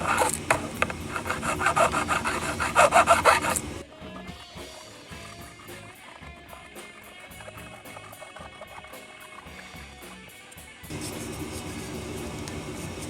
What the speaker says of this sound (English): Hit them with my crowning file very lightly.